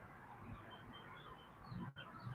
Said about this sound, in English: Y'all hear the birds singing?